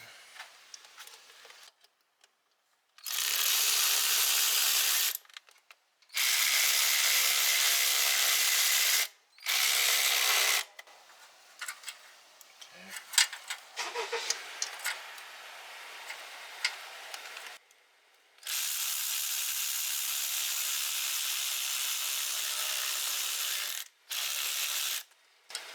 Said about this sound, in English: Bolt it in, screw it in.